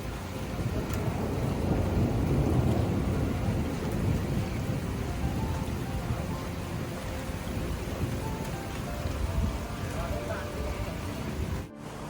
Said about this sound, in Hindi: बहुत ज़ोर से बारिश हो रही है फ्रेंड्स